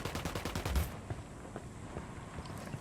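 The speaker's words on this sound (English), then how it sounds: "Acabo de escuchar un tiro." Gunfire in Ghost Recon Wildlands: a quick burst of rapid, evenly spaced shots up front, then scattered fainter single reports over a windy outdoor background, moderately distant and without speech.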